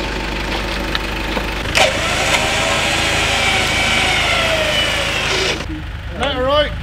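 A vehicle engine idles and revs while reversing on sand, a steady close rumble with a brief rise partway through, and voices speaking over it near the end.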